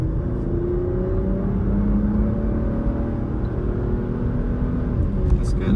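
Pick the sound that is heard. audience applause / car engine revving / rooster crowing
car engine revving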